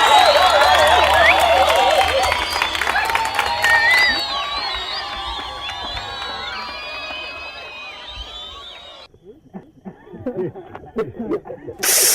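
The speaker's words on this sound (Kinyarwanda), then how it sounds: "dushimira aba bakobwa tubaha amashyi menshi cyane" A crowd roars with cheers, whistles and clapping that swell loudly, then thin out and fade, leaving sparse scattered sounds and a final short burst of noise. Voices carry through the cheering.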